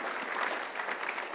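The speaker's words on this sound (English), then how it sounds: "So round of applause for the coaches." Applause for the coaches at a college athlete of the year awards ceremony, a steady wash of clapping from a gathered audience, fairly quiet and continuous throughout the brief moment with no talking over it.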